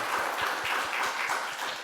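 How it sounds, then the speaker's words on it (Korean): A church congregation claps together in steady, fast applause, a dense even patter of many hands that fills the room for a couple of seconds without any voices. "우리 살아계신 하나님께 감사와 찬양과 영광의 박수 올려드리겠습니다."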